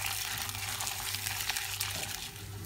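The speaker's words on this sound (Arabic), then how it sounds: "بنشوح الرز مع السمنة والزيت" Rice fried in ghee and oil gives a soft, steady hiss with watery crackle and light stirring, quiet and continuous with no talking.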